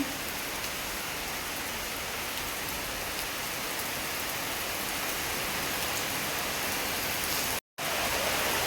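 Heavy rain pours down in a steady, dense roar with no pauses or voices, loud and constant throughout, broken only by a momentary cut near the end.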